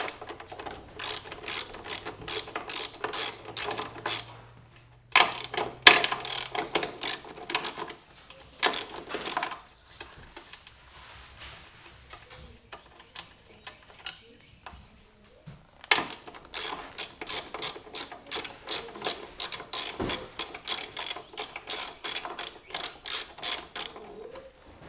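A size 14 socket ratchet loosens the plate bolts on a 2022 Harley-Davidson Road Glide, its rapid pawl clicking running in several close bursts separated by short pauses.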